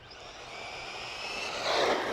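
A Traxxas Mini XRT RC truck on a 2S battery speeds across a parking lot, its electric motor a rising, whining drone that grows louder over a couple of seconds as it passes nearby.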